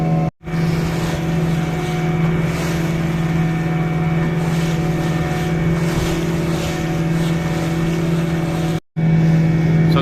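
A fishing boat motors out to the fishing spot at Ennore, Chennai, its engine droning steadily and loudly with wind and water rush, cutting out briefly twice.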